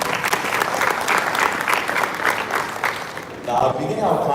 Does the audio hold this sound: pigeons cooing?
no